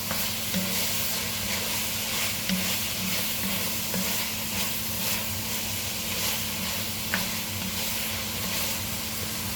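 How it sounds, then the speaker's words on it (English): Bolognese ingredients fry in a hot pan, giving a loud, constant sizzle and hiss with occasional stirring scrapes, steady throughout with no voices. "This is sizzling."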